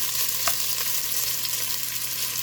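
Sausage browning in a pan on a stove over medium heat, a steady close sizzle and frying hiss throughout, with a faint scrape partway through and no voices.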